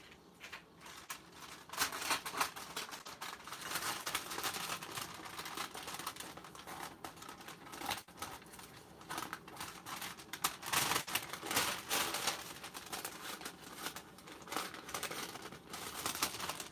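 Parchment paper for caramel vegan brownies is handled and cut at the corners, with crisp crinkling, rustling and snipping sounds that come and go irregularly at close range.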